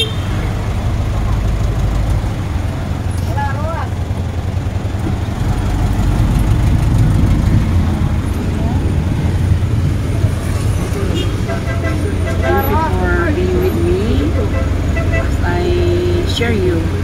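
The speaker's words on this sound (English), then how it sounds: "The taxi, the jeepney, which I'm riding now." Riding inside a jeepney through Davao City traffic: a steady, loud engine drone and road rumble with surrounding vehicles, while someone talks throughout.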